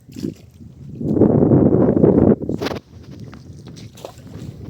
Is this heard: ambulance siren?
no